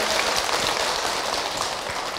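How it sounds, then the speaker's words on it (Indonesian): Women in the studio audience of the religious talk show Jalan Dakwah on Btv clap for Ustadz Encep, a uniform, rain-like hiss of many hands that stays steady throughout with no voices over it. "Tepuk tangan Ibu untuk Ustadz Encep"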